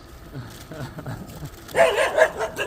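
Dogs bark in short bursts at a campsite with small gardens, the loudest yaps coming near the end, following a stretch of indistinct voices.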